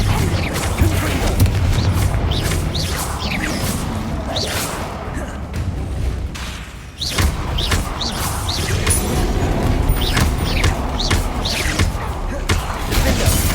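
Confringo fire spell explosions in Hogwarts Legacy combat, repeated booming blasts and crashes over a dense, loud game soundtrack, with a brief lull midway before the barrage continues.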